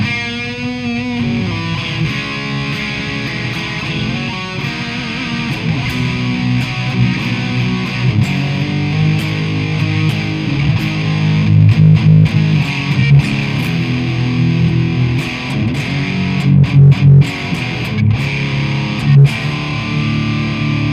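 An Ibanez RG electric guitar played through a 90s Marshall amp head on the overdrive channel with reverb, a sustained distorted riff of chugging low notes and ringing chords, loud and continuous with no talk.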